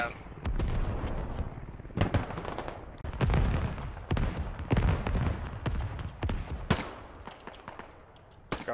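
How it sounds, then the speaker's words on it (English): Artillery and gunfire in a shooter video game, with dense rapid shots and heavy booming blasts overlapping almost continuously, loud and close, while a faint voice occasionally comes through underneath. "artillery. Watch it if you're near."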